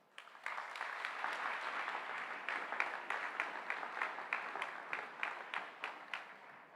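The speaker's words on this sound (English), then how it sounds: "Give yourself a round of applause" Audience applause for a graduating class at the Bacon Academy 2023 ceremony, a steady wash of many hands clapping that swells quickly and thins toward the end, moderately distant and quiet.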